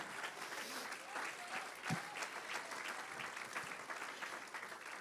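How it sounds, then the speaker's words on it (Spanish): A church congregation claps and cheers after the preacher's call, a dense, steady wash of applause with some voices mixed in, heard from within the crowd throughout. "Denle un aplauso a Dios"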